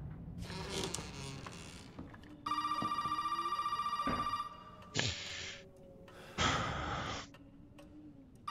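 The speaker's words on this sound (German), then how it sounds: "ich hasse es, wenn das Telefon klingelt." In the horror video game Resident Evil 7, a telephone rings in a steady electronic trill lasting about two seconds, mixed with breathing, footsteps and other short game sounds, fairly quiet overall.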